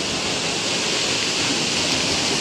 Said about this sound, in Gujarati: દંડાવર પાણી જો આવે એ સામે નાહી પડે છે કૂવામાં પાણી